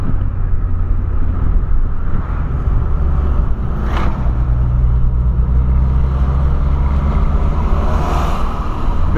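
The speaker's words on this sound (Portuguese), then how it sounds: "Quando eu ando de boa assim, ó, que nem eu tô andando de boa, suavão, ele não faz tanto barulho." A VW Polo fitted with a sport air filter and sport exhaust cruises gently, giving a steady, low, muffled engine drone with some wind rumble throughout and no sharp revving.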